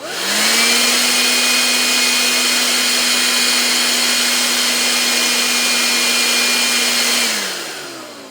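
A battery-powered hair dryer blower whirs steadily at a loud, constant pitch for about seven seconds, then cuts out and winds down as the fault stops it mid-use; no one talks.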